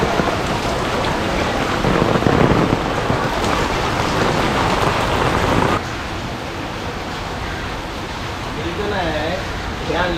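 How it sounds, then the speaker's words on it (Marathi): Heavy monsoon downpour drumming steadily and loudly on surfaces outdoors, a dense continuous roar that eases slightly partway through, with someone talking over it. "इथे बघा पाऊस किती जोरात आलेला आहे"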